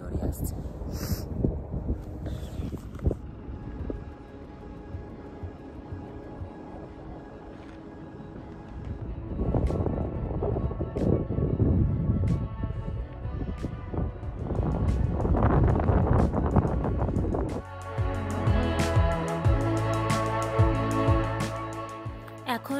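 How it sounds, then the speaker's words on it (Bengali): Strong, cold wind blasts across a high mountain pass on the road from Kargil to Leh in Ladakh, buffeting the microphone in loud, rough gusts that rise and fall, with voices heard at times. "ঠান্ডা হাওয়াটা অনেকটা জোরে আসছে"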